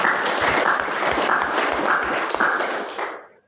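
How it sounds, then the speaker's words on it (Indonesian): Students and guests at a high school graduation and farewell ceremony applaud. Many hands clap in a dense, lively burst that holds for about three seconds, then tapers off quickly to silence. "Tepuk tangan buat kita."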